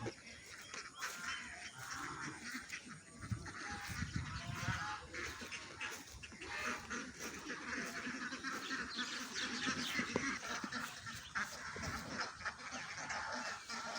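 Ducks quack and honk in a busy, continuous flock chorus, with overlapping calls throughout and faint voices mixed into the background.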